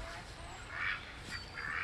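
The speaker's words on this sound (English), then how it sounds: "I see the chickens and the ducks in the background." Ducks quack faintly in a backyard, a few short nasal calls rising at a distance with a soft outdoor background.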